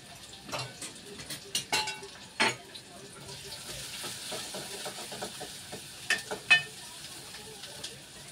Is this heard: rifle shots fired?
no